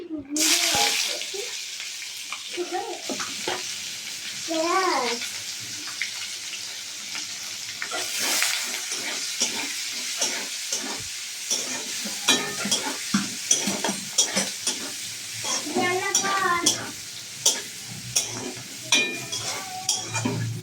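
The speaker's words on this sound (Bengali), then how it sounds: "পেঁয়াজটা আমার লাল লাল করে ভেজে নিয়েছি" Chopped onion frying in a pan after cumin, bay leaves and dried red chillies went in, a sizzle mixed with stirring clatter, running water and short bursts of voice.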